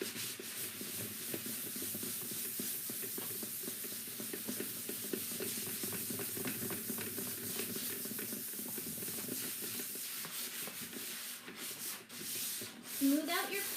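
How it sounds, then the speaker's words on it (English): A hand sander works over the surface of a wooden hope chest during makeover prep, giving a continuous close scratchy rasp with rhythmic strokes and a brief tonal squeak near the end. "Don't be afraid to bring in that hand sander."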